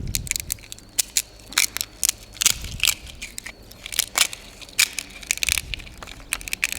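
3D-printed scaffolding support being snapped and peeled away from a printed part, a close series of sharp crackles, crunches and small snaps in irregular bursts.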